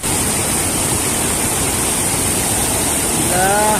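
Rushing water at Talon Pari waterfall in Bulacan, a dense, steady roar filling the whole scene, loud and close; a faint voice briefly rises near the end.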